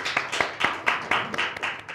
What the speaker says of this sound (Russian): Благодарим вас, аплодисменты.